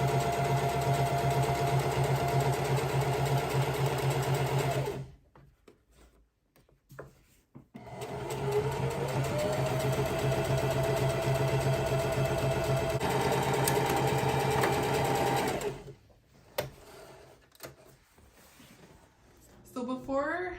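A sewing machine runs in steady whirring bursts, stitching ribbons onto a skirt, stopping briefly twice with quiet pauses between, close and loud throughout.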